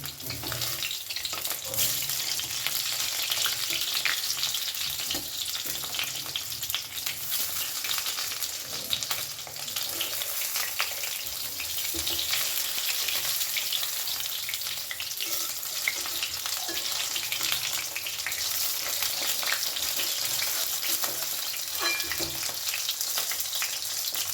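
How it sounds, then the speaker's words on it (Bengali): Eggplant pieces fry in hot oil over a medium gas flame, giving a loud, continuous sizzle and crackle that runs unbroken for the whole stretch, with no one talking. "বেগুনের অন্য টুকরোগুলোও আমি ভেজে নেবো"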